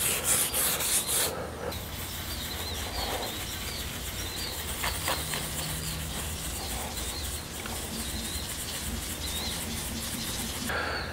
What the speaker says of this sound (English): I'm just gonna move straight to the brass brush